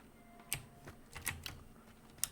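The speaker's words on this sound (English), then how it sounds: "you're gonna hear a lot of keyboard clacking" Sparse computer keyboard clacks, a handful of sharp isolated key taps spaced irregularly over a quiet background during a Hunt: Showdown session.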